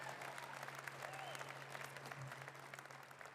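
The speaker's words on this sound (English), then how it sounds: "I think that deserves a big round of applause." Applause from a graduation ceremony audience at Natrona County High School, a steady, moderately faint wash of clapping from a large crowd with a low hum beneath, continuing evenly without talk.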